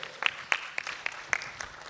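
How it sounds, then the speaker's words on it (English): Sparse applause from a conference audience at a law school commemoration event, a handful of distinct, fairly faint claps spaced roughly evenly rather than a full ovation. "A round of applause for Joe."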